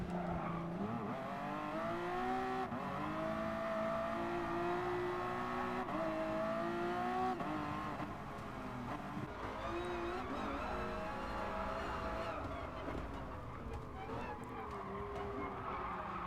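An F1 race car engine in Gran Turismo Sport, a sustained high whining drone that rises and falls through gear changes and corners, heard from a steady distance and fairly quiet.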